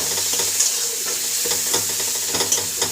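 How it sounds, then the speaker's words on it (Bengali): Spiced masala for a cauliflower dish sizzles steadily in a hot pan, a close, continuous frying hiss with light stirring scrapes and no voices. "ফুলকপিটা এই যে ভেজে নিয়েছি"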